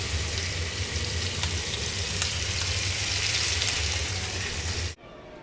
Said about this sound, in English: We're gonna also sear the chops. Get a little brown crust on them